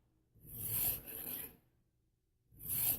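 A file in a chainsaw-sharpening filing device rasps across a chain tooth in two quick back-and-forth strokes, then a pause before another stroke starts; close, dry and fairly quiet.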